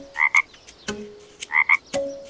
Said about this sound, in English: Nope, that was the sound of a frog.